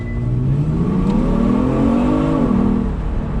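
A Genesis G70 sedan accelerates hard from a standstill in a launch-control start. The engine is loud and close, its rising drone climbing steadily in pitch for over two seconds, then dipping briefly at a gear change and continuing.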